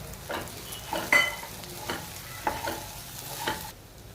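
A spoon stirs sago (sabudana) khichdi with boiled, cut potato in a pan, giving repeated scraping strokes about every second over a faint steady sizzle, close and moderately loud, with no voices.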